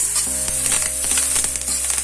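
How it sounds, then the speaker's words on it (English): Red chilli and garlic chutney sizzles and crackles steadily in hot oil over a high flame, with a constant hiss and faint stirring, close up. "For 2 minutes I have been frying this on high flame"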